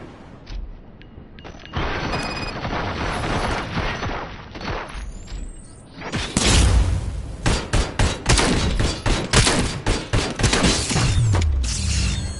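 Gunfire and mechanical clatter erupt in the video game RoboCop: Rogue City, with a stretch of busy clanking giving way to a loud run of rapid, booming shots and thuds.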